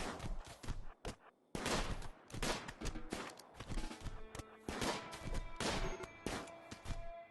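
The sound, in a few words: gunfire in the video game Rimworld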